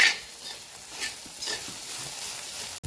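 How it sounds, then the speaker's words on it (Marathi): Okra bhaji being stirred in a pan as it steams, soft scraping and shuffling strokes with a gentle sizzle underneath, steady and close, ending in a sharp clack. "याला मध्ये मध्ये असं हलवून घ्यायची, म्हणजे आपले पूर्ण भेंडी असे शिजले जाते."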